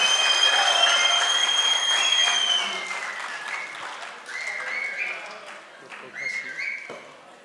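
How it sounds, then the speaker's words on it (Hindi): A conference audience in Islamabad applauds a poet, dense clapping at the start that thins and trails off in uneven bursts with voices underneath. "भरपूर तालियां"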